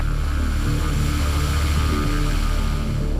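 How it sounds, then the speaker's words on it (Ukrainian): An Antonov An-26 turboprop aircraft begins its takeoff run on a runway, its engines and propellers droning loudly and steadily with a low throbbing hum throughout. "Ще одна особливість Ан-26 Це дуже короткий розбіг."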